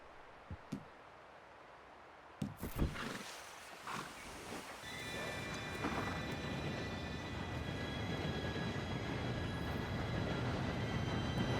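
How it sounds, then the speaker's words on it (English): A train in the video game Red Dead Redemption 2 rumbles in and grows steadily louder, a rising roar with high metallic squealing from the wheels after a few sharp knocks. "Train should be here any minute now."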